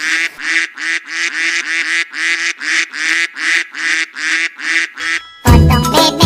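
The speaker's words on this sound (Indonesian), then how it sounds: "Bebek." A duck quacks repeatedly in a steady, loud, close rhythm of about a dozen nasal honks, then music starts abruptly at the end.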